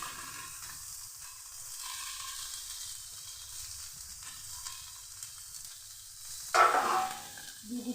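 Grated cauliflower frying in a pan with turmeric, cumin and coriander powder: a soft, steady sizzle with light stirring, then a sudden louder hissing burst near the end. No one speaks.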